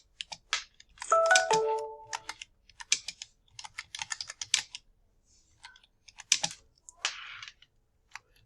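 Close, quiet keystrokes on a computer keyboard come in irregular bursts with short pauses as a ChatGPT command is typed, and a brief electronic tone sounds early on.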